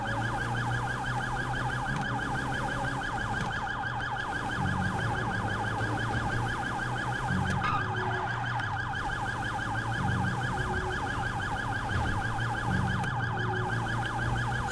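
Police riot-squad vehicle siren wailing continuously in GTA V, a steady looping electronic siren with engine rumble underneath, loud and close with no talk.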